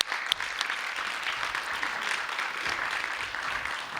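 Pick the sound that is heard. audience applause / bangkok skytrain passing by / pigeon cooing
audience applause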